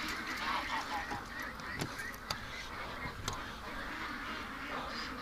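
Ducks at feeding time give a busy stretch of overlapping honks and quacks, fairly distant with some sharper calls nearer, with faint background noise throughout.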